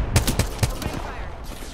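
Gunfire in a shooter video game, a quick burst of four or five sharp close shots followed by a fading tail.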